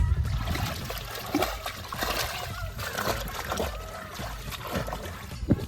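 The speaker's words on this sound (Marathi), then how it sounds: "या बांधाच्या वरून पाणी चाललंय" Water spilling over the earthen embankment of a flooded paddy field in Konkan, a continuous close trickling and splashing flow with uneven gurgles, and a voice speaking faintly in the background.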